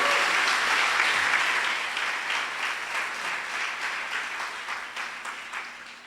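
A church congregation breaks into loud, dense applause that gradually thins and fades over several seconds, with a faint voice underneath.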